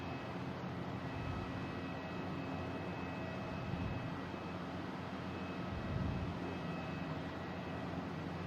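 A propeller aircraft at Boston Logan International Airport gives off a steady, even engine drone, fairly distant, holding at a constant level with no voices.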